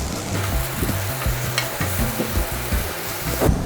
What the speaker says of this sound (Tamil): இந்த மாதிரி திருப்பி திருப்பி கம்மியான தீயில வச்சே இதை பொரிச்சு எடுங்க.